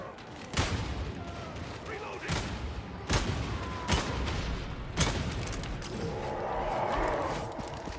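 Gunfire in Warhammer 40,000: Darktide, heavy booming shots spaced roughly a second apart over a rumbling battle background, with players talking throughout.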